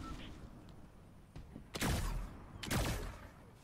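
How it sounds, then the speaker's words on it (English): Two heavy blasts from an alien weapon in Fortnite, each a loud booming burst with a decaying tail, over quiet game ambience. "I'm gonna shoot over there."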